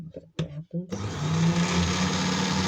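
Speech gives way to a steady, loud whirring drill bit spinning in a vice while making a thick flush-set ring shank, running continuously to the end.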